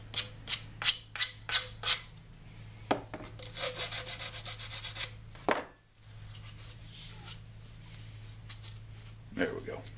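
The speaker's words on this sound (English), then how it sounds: "I'm going to take and clean all these up with a file real quick, sandpaper, make them look a little better." Rough rasping strokes of a file and sandpaper cleaning up homemade PVC and rebar catfishing rod holders, a quick run of sharp scrapes followed by softer rubbing, with a steady low hum underneath and a brief pause.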